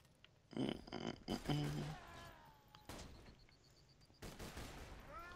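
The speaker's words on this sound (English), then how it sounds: "It's because my fucking gun fires three shots at any time." Bursts of gunfire from a three-round-burst weapon in the shooter Borderlands 2, several short sharp volleys spaced apart among other game sounds, with a player speaking between them.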